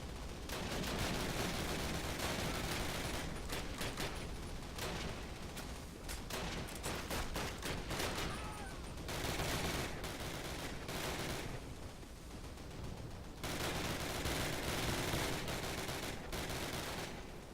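Sustained machine gun fire in Call of Duty, dense rapid bursts and explosions filling the whole stretch, loud and continuous with brief lulls between volleys.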